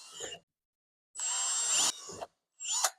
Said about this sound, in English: I'm going to drill with a 1/2 inch drill bit